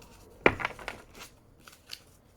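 A deck of brand-new index cards is shuffled close by, a sharp flicking riffle followed by a few softer papery slaps and rustles, with no talking.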